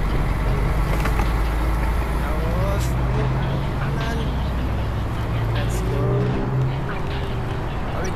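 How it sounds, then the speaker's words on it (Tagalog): Road traffic on a street, with a truck and cars rumbling past at close range, gives a continuous low engine drone under a voice speaking now and then. "Lakad pa naman ng truck oh."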